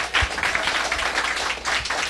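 An audience gives a round of applause for Wayne Schwartz on a show, a burst of clapping with uneven pulses that stays fairly close and loud throughout.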